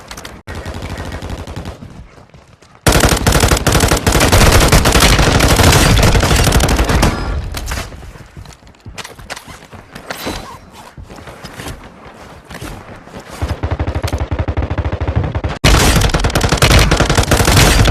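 Bursts of video game gunfire from a match on Rebirth Island, loud and close, with rapid automatic volleys and dense fusillades that stop briefly and then resume. No one speaks.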